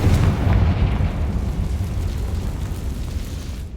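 A Confringo fire spell bursts in Hogwarts Legacy, a loud booming blast that rolls into a sustained rumbling roar and slowly fades over a few seconds, with no voices.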